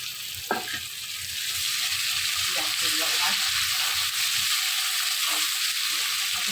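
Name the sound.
onion and tomato frying in a pan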